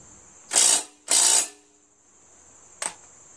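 Ratchet tightening a bolt on a Craftsman push lawn mower with a Briggs engine, two quick close ratcheting bursts followed after a pause by a single short click, no talking.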